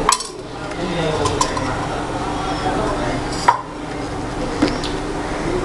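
Hilsa fish pieces worked by hand with a generous pour of mustard oil in a bowl, giving steady soft squelching and rubbing with a few sharp clinks of dishware, continuous over a quiet kitchen background.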